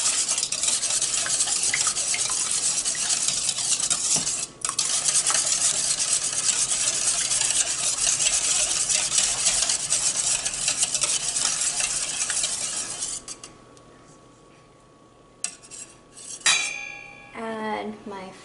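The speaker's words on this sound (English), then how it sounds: "Put my eggs into the mixing bowl, my milk, we'll whisk these both up." Eggs and milk whisked together in a mixing bowl for baked apple pancakes, a steady fast clatter of utensil against bowl running continuously, then tapering off to lighter clinks near the end.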